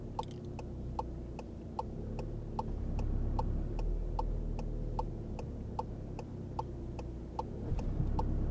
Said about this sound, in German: Dann Blinker links.